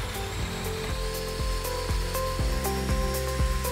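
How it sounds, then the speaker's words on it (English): A power drill whirs steadily at close range, with regular knocking clicks every half second as it bores holes into a wooden cupboard door through a Kreg hinge jig. "So I'm using my Kreg hinge jig to drill 3 holes into this wooden door."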